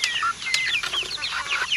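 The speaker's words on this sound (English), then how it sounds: "In this little coop right here are my youngest chicks, which aren't so young anymore." Young chickens, nearly grown and including a possible rooster, cheep and cluck in a small coop, a busy overlapping chorus of short chirps close by with no talking.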